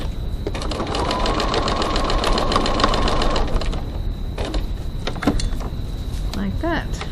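A sewing machine runs a steady rapid stitch along a crossbody bag seam, fairly loud and close, with a brief change in pace near the end.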